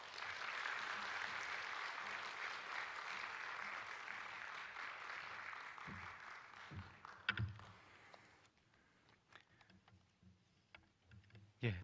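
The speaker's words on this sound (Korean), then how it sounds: "큰 박수로 모시겠습니다." Church congregation at a Korean missions seminar gives sustained applause to welcome a visiting pastor, dense even clapping that tapers off after about eight seconds into scattered taps and room noise.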